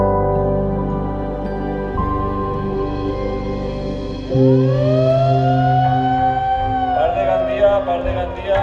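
A fire station siren in Gandia wails loud and close, holding a steady tone before sweeping sharply upward in pitch and sustaining a rising howl.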